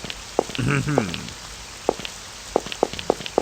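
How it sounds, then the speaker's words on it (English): Rain falls in the video game Amayado Bus Stop, heard as sparse, crisp drops tapping irregularly over a faint hiss, with a short burst of voice early on. "By which I mean it's raining and dark"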